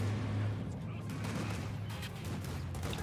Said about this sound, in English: I am taking some heavy fire here.